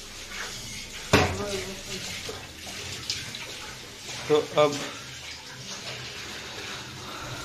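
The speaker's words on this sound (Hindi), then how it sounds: "मेरे से चाय के बर्तन मंजवा रही है" Tea pots and utensils are scrubbed and rinsed under running water, with a steady splash, a sharp knock early on and a couple of metallic clinks midway while people talk over it.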